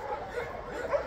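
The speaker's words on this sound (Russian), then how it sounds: "Слышите количество собак, которые лают здесь?" Many dogs bark at an animal shelter in Latvia, a distant, continuous chorus of yips and barks blending into a steady background din.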